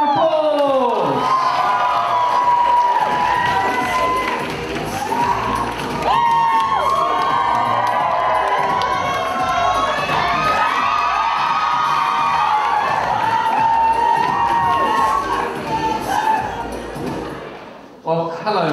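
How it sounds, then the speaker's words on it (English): A live audience at a blind-date show cheers, whoops and claps loudly for most of the stretch, the excited crowd noise rising and falling before tapering off at the end, with voices talking throughout. "Everyone give me a big round of applause!"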